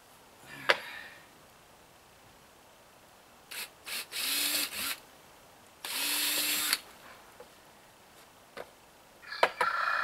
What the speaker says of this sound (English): Need a block over here to drill on.